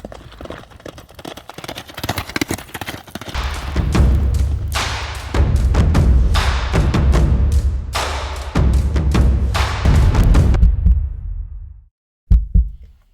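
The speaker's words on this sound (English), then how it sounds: "right now there's fireworks just going off like crazy because it's the 4th of July, 2024" Fourth of July fireworks boom repeatedly in heavy, rumbling bursts, a dense run of thuds and rolling explosions that fades out, then a final pair of sharp pops.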